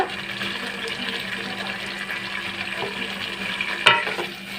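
Onion paste being stirred into frying masala for egg korma, a steady low sizzle with soft wet stirring and one sharper knock near the end, no voices.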